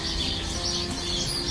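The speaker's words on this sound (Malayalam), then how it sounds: "ഇവിടെ അതേ കിളികളുടെയൊക്കെ സൗണ്ട് കേൾക്കുന്നുണ്ടോ?" Birds chirp in a tree after rain, soft high calls blending into a continuous outdoor wash, fairly distant and with no voices.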